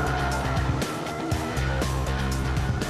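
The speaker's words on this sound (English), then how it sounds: "So I decided to take Ronnie for a spin to see what he thought" A car on a test drive, its engine revving and shifting up and down in pitch with tyre noise, loud and close from inside the cabin.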